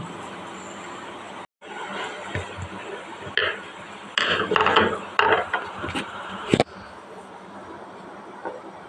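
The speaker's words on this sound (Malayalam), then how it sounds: "അപ്പോൾ ഈ സ്ക്രൂ ഒന്ന് അഴിക്കാൻ വേണ്ടി നോക്കാണ്" Tight screw on a sewing machine being worked loose, heard as close metallic clicks, creaks and scraping clunks in irregular bursts, with a sharp knock near the end.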